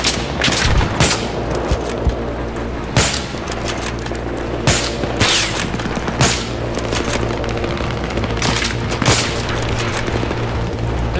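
Dense gunfire from the Battlefield 3 video game, loud and continuous, with rapid bursts, sharp individual shots and booming impacts crowding the whole stretch.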